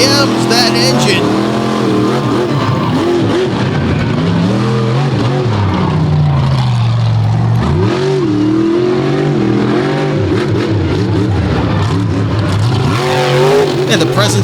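Monster truck engine at a live arena show, loud continuous growling revs with rising and falling pitch, dense and close, with a voice talking over it.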